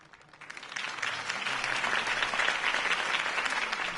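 A crowd in the video game Batman: The Telltale Series breaks into applause that swells after a quiet start and holds loud and sustained, many hands clapping at once.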